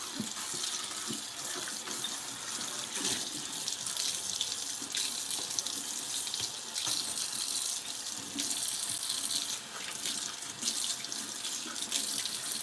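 Kitchen tap running steadily into a sink while lamb chops are rinsed, a continuous splashing flow close by with small spatters and no speech.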